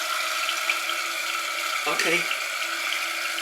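A toilet cistern on a water closet refills after its first flush, a steady hiss of running water with a brief mechanical clunk of the fill valve midway, and one short spoken word.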